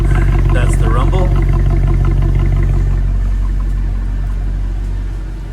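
A Mercedes AMG C63 engine rumbles at idle just after a cold start, a loud, steady low throb, with someone speaking over it early on.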